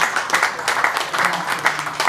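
A crowd at a Congolese community event in Rome applauds steadily, dense clapping filling the whole stretch at a fairly loud, even level.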